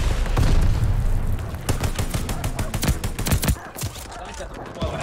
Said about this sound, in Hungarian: itt folyamatos lövöldözések vannak